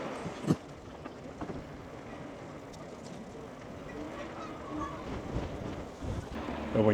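Wind buffets the microphone while a rider cruises a DYU A5 throttle e-bike around a marina into a headwind. It makes a constant low rumble with occasional gusts and thumps, and someone talks faintly.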